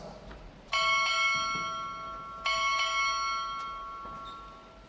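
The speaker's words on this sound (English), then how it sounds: "Strike 4 bells." A ship's bell rings four times in two close pairs at a Navy ROTC graduation ceremony, each ringing strike decaying slowly against faint background hiss.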